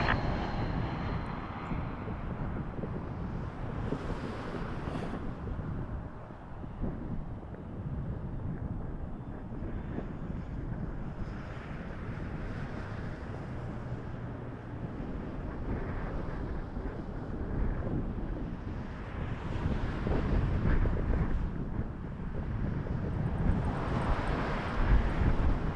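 An Air Canada airliner lands on runway 24 left at Toronto Pearson Airport, a steady distant jet-engine rumble and whine that swells louder toward the end, with wind buffeting the microphone and no talk.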